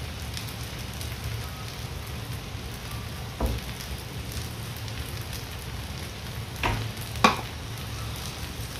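Pancit bihon rice noodles fry in a pan with a constant low crackle, while a few distinct scraping stirs of a utensil cut through near and clear, without speech.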